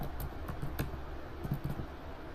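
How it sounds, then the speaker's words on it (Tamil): Typing on a computer keyboard while setting up a PHP MySQL database connection: a few scattered key taps, close and fairly quiet, with no talk. "நானுமே டைப் பண்ணுறேன்"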